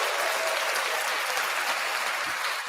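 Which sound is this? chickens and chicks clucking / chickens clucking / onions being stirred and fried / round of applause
round of applause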